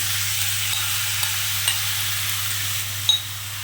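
Radish frying in hot oil with turmeric for paratha filling: a constant sizzle beneath a low hum, with a few light clicks and one sharper tap near the end, and nobody talking.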